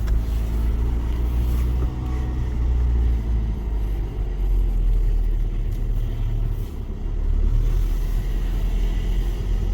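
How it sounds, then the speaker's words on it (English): A 2016 Honda Civic 1.6 diesel car drives slowly around a car park in Scotland, its low engine rumble steady and close, swelling slightly as it moves, with no talk. "spin around the car park just to let you hear what it sounds like."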